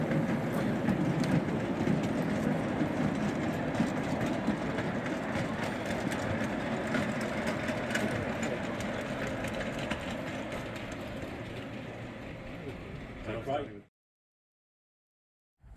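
A K-Class steam locomotive leaves the yard at a live steam day in New South Wales, rumbling steadily with rhythmic clatter and mechanical chuffing, fairly loud and continuous, before cutting off abruptly into silence near the end.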